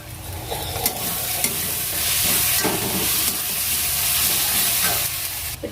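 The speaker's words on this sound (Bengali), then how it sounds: "এটা খানিকটা ভাজা হয়ে এসছে" Tomato frying in a pan, a steady close sizzle with occasional scraping stirs, continuous and fairly loud throughout, no voices.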